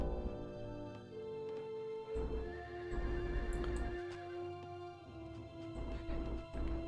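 Horses in the Rise of Nations strategy game give quiet whinnies and neighs over soft in-game background sounds and faint hoof clip-clops, with no voices over them.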